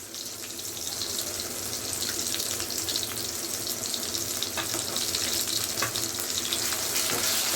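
Ginger garlic paste sizzling with sautéed onions for an intestine curry, a steady broadband hiss with a few faint crackles, continuous and fairly close, no voices.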